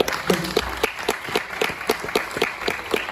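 An audience at a business question-and-answer seminar claps in a steady, rhythmic beat, the sharp claps repeating evenly about four times a second at moderate loudness with no talk over them.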